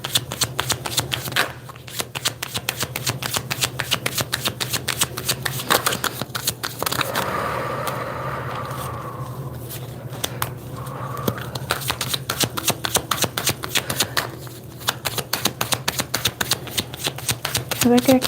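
A deck of tarot cards shuffled by hand: continuous rapid, close riffling and flicking that pauses briefly midway while a voice speaks, then resumes steadily.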